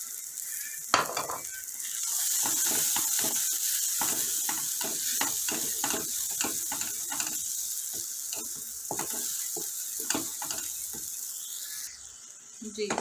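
Maghaz masala with green chillies frying and being stirred in a pan, a steady close sizzle with repeated scraping strokes of a spoon in an uneven rhythm, with no talking.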